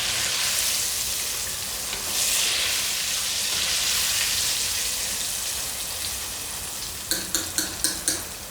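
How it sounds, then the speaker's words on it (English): Squid tentacles deep frying in hot oil give a dense, steady sizzle and crackle close by, ending with a short run of sharp rhythmic taps, with no talking. "I'm just going to do all of this deep frying for these tentacle squids"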